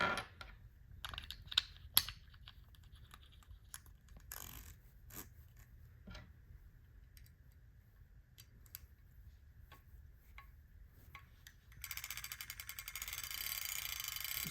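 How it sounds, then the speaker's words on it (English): A vintage Penn International #4 fly reel clicking as it is reeled in, a fine, fast ratcheting tick that is quiet and close, with a few sharper clicks and a louder buzzing run near the end. "This reel has a great sound to it. Probably one of the best intake sounds out of any reels I've heard."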